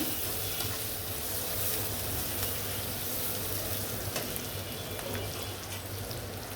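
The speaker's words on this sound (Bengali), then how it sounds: "পেঁয়াজকেও ভাজবো আমি সুন্দর করে" Onion sizzles steadily in a hot pan of oil with garlic and chili, a dense, continuous close frying hiss with no voices.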